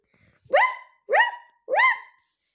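A puppy barks three times in a steady rhythm, short sharp yaps close by and loud against an otherwise quiet room.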